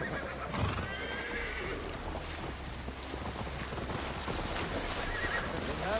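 A horse in Assassin's Creed Valhalla gives a clear neigh near the start, then hooves clop along under wind and rushing ambience, with another whinny toward the end.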